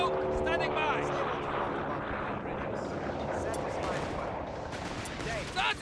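Machine guns rattle in the Company of Heroes 3 war game during an Afrika Korps 4v4 multiplayer battle. Dense, continuous bursts of gunfire mix with battlefield noise and radio-style voices talking throughout.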